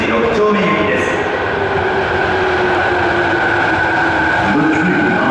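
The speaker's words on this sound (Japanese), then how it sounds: "到着の電車は天神橋筋6丁目行きです。" An Osaka Metro Sakaisuji Line train pulls into Ebisucho station with a loud, continuous rumble and metallic rail whine that fill the underground platform throughout.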